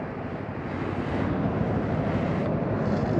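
Strong wind gusts across a hilltop near a railway tunnel, a dense, continuous roaring rush buffeting the microphone throughout.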